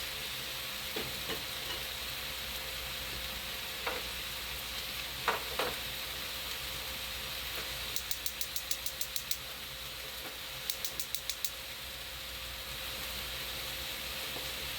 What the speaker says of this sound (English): And then just going to stir these sauces and tomatoes in right quick